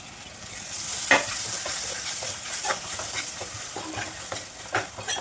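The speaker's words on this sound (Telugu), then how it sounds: "మామిడికాయ టమాటా మెత్తపడేంత వరకు వేయించుకోవాలి" Raw mango and tomato frying in a pan with ginger-garlic paste for a green mango curry, a steady sizzle broken by repeated scraping stirs of a spatula, close and moderately loud with no talking.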